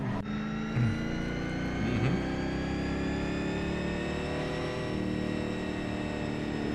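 A drag racing car engine accelerates hard and steadily at a drag strip, its pitch climbing smoothly through a long continuous pull with no talk over it.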